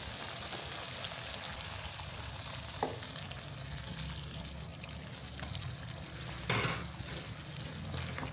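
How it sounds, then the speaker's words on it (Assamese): Boiling hot water is poured into a pan of frying local chicken curry, a low broad sizzle and bubbling with a couple of brief splashing bursts, heard quietly and close. "এতিয়া ইয়াত উতলা গৰম পানী দি দিম"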